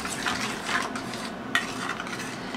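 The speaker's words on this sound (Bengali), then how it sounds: "এবার এটাকে ভালোভাবে মিশিয়ে নেব" A spoon stirs sugar into a mango and milk mixture, scraping and clinking softly against the bowl in a few brisk strokes, close and alone.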